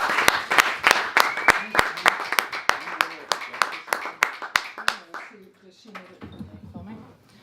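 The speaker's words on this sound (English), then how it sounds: "Warm round of applause for Reverend Tara Wilkins." A small gathering at Peace House applauds Reverend Tara Wilkins with crisp, individual claps that thin out and fade after about five seconds, leaving quieter room sound.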